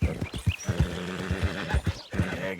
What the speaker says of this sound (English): the gait of the horse, it seems faster than Black Velvet